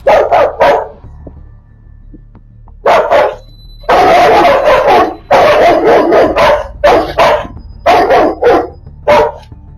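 Three Rottweilers bark loudly and repeatedly at other dogs through a fence in rapid bursts, close and overlapping, with brief pauses between volleys.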